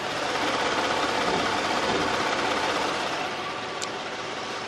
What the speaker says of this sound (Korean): 엔진 소음을 먼저 들려드리면은